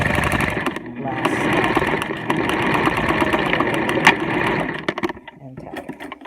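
A sewing machine stitches a fabric face mask in a rapid, continuous mechanical whir, close and fairly loud. It pauses briefly near the end, with a voice talking over it.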